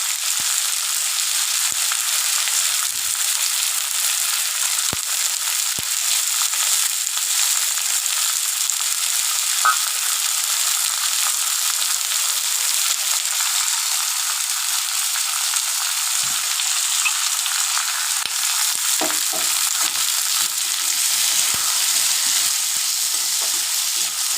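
A paste of chili powder and turmeric mixed with water sizzles in a pan for a rohu fish curry with potato and pointed gourd, a loud, constant hiss with a few faint stirring taps.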